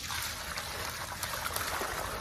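Water pours and trickles steadily into a washing basin during pig-slaughtering cleanup, a continuous close splashing flow with small irregular spatters.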